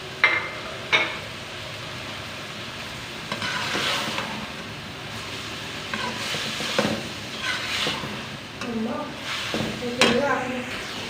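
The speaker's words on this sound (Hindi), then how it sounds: "तो यहाँ पे 2 मिनट के लिए अच्छे से भुनाई कर लेंगे।" Capsicum and keema stir-fried in a pan, with scattered spatula scrapes and clinks over a soft sizzle, irregular and close, with a voice talking at times.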